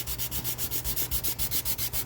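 Rhythmic back-and-forth sanding with 320-grit sticky-back sandpaper stuck to a table, working a surface toward a chrome-like shine; about a dozen even, close strokes with no talk.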